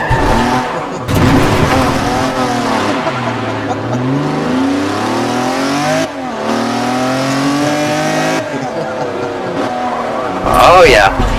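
Race cars drifting on a track lined with tire barriers: engines rev and change pitch while tires squeal through the turns, loud and close, with talking over it.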